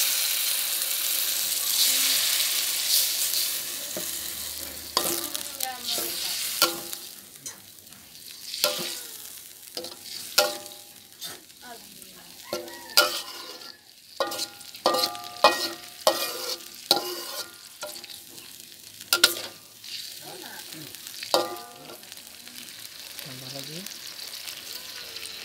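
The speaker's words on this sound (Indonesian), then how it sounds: "Sekarang langsung kita masukkan air." Water hits hot frying sambal bakso with a burst of sizzling, followed by steady bubbling and repeated scraping and clinking of a spatula stirring the pan, close and fairly loud, with occasional speech over it.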